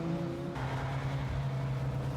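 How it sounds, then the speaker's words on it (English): Ferrari 355 or GTO engine on a racetrack, a steady loud drone whose pitch holds then lifts slightly midway as the throttle opens, continuous throughout with no voices. "As on the road, you really have to work this engine hard"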